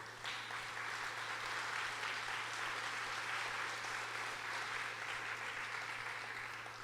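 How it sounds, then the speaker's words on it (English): An audience at an awards ceremony applauds with steady, sustained clapping that fills the hall at a moderate distance, with a low electrical hum underneath. "I thank you for the applause"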